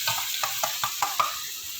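Onions and garlic frying in a pan, with a continuous sizzle broken by a rhythmic series of stirring scrapes, about six strokes at an even pace.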